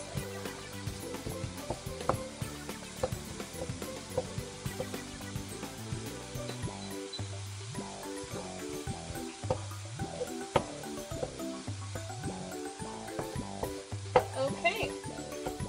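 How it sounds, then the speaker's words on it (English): Cauliflower fried rice seasoned with pepper sizzling in a pan, a continuous close hiss broken by soft scraping strokes as it is stirred and spread around, no voices over it. "And just keep stirring it up."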